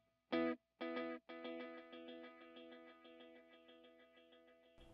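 A Wampler Ethereal delay pedal's echoing repeats build into a sustained self-oscillating drone: a few loud separated notes, then rapid even repeats that blur together and keep ringing steadily.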